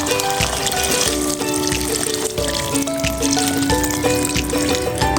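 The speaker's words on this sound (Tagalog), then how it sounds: "lagyan natin ng tubig" Water pouring steadily into a pot of salmon sinigang with vegetables, a continuous close splashing and trickling stream with bubbly gurgles, no talk over it.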